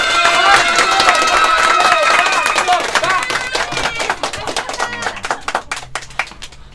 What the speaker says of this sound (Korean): 박수 하십니까? 박수.